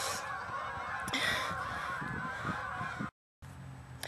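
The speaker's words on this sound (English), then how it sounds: "I just chased the geese and they've flown away now" Several geese honk loudly and repeatedly at close range, a dense chorus of overlapping calls that stops briefly and then resumes at a lower level.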